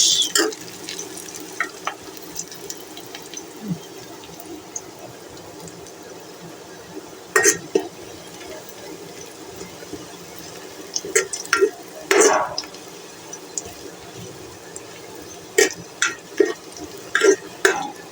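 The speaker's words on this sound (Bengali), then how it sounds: "দেখেন আমার পেঁয়াজগুলো ভাজা প্রায় শেষ।" Chopped onions and green chillies fry in a pan for a fish dish, with a low, faint sizzle and scattered scrapes and taps of a spatula that come and go at irregular intervals.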